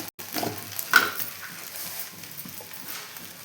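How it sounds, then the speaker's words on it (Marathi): Sabudana khichdi, a fasting dish of tapioca pearls, being stirred in a pan gives soft, close scraping and faint sizzling, with one brief louder scrape near the start. "खिचडी बनवायची आपल्याला असं हलवून घ्यायची हलवून अशी घ्यायची"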